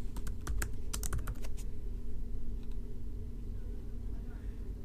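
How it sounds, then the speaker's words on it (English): Rapid keystrokes on a computer keyboard entering text, a quick burst of clicks in the first second and a half with a few scattered taps later, over a low steady background hum. "Then type in the text for quadrant 3."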